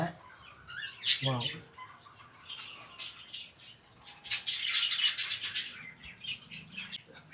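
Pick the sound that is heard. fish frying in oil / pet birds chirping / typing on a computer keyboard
pet birds chirping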